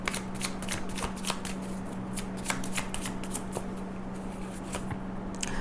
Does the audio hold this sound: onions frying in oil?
no